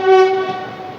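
A train sounds one loud, close, sustained horn blast at Jetalsar junction, a railway station where several lines branch off. The tone swells at the start and then tapers away.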